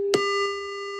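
A steady synthesizer tone from a triangle wave sustains with a soft, mellow buzz, starting with a faint click and fading slightly.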